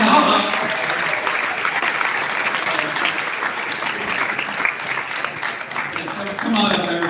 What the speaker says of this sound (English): you guys can give them a round of applause